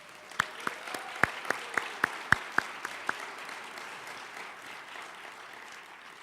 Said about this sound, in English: Would you please join me in giving Lakeisha Hall a nice round of applause?